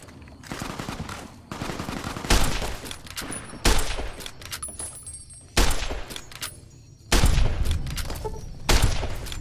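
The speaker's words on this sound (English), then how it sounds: "We're going to try the varmint rifle." Varmint rifle firing in a Fallout video game, a string of single loud gunshots spaced a second or two apart, each with a short ringing tail over faint game ambience.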